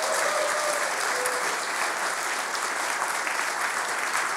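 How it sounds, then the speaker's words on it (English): An audience at a formal event with a visiting president applauds steadily, a dense even wash of clapping at constant loudness, with no talking over it. "if you be so kind and applaud Valdas Adamkus"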